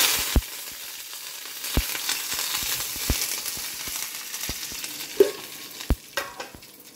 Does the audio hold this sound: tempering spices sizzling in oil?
yes